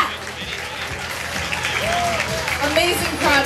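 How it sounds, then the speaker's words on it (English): An audience applauds and gives an ovation after a Charles & Keith Fall 2013 fashion show, steady clapping and cheers that grow louder toward the end, with voices and shouts rising over the crowd. "Ovation."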